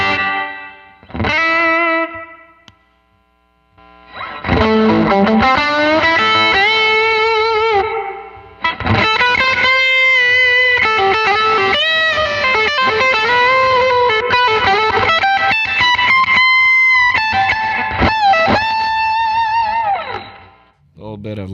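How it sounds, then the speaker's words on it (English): An electric guitar played through a hall reverb pedal on a pedalboard rings out in sustained chords and single notes with long lush decay, loud and close, with short pauses between phrases. "Next I have a hall reverb on."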